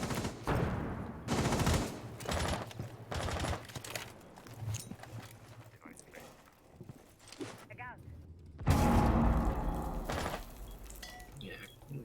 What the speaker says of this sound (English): seems like some nades going out there